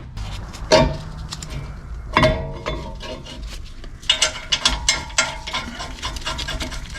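Metal caliper bracket on a 2021 Ford Ranger 4X4 rear brake being refitted, giving a few sharp clanks and scrapes followed by a run of lighter metallic clinks and rattles, close and alone.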